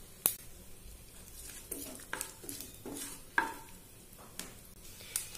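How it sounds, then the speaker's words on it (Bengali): A tempering of dry red chillies and kasuri methi is stirred in hot oil in a pan, giving a soft, steady sizzle broken by scraping spoon strokes and a few sharp clinks against the pan. "ফোড়নটা একটু নাড়াচাড়া করে নিয়েছি,"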